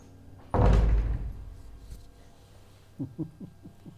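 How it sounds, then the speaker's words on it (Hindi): A door in a home swings shut with one loud, close slam that rings out and fades, followed a couple of seconds later by a few soft knocking taps. "दरवाजा बंद करके जाना"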